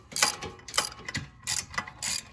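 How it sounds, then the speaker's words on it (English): Hand ratchet with a 9/16 inch socket backing out the mounting bolts of a trailer tongue jack; several quick bursts of clicking pawl, close and fairly loud, separated by short pauses. "It's got 3 bolts that hold it on, and to remove them, you're going to need a 9/16 inch socket."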